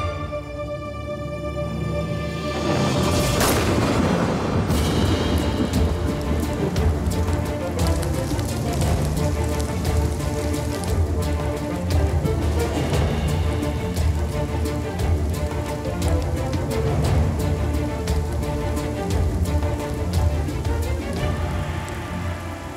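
Rain falls steadily outdoors, a dense hiss of drops on surfaces that holds at an even level throughout, with a brief louder swell early on and faint voices underneath.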